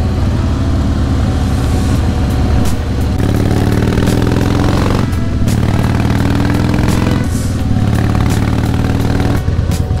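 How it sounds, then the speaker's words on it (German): Harley-Davidson Heritage Softail Classic ridden on an open road, a loud continuous engine drone with gear changes and slight revving, heavy wind rumble close to the rider, no voices. "Hier kann man richtig geil Moped fahren."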